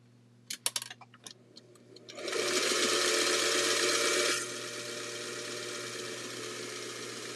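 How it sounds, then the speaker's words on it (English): A sewing machine stitches quilt pieces together for a holiday table runner. A few light clicks come first, then a steady, fairly loud motor whir starts and continues at a slightly lower level to the end. "Ray, you're going to sew this one to this one and this one to this one"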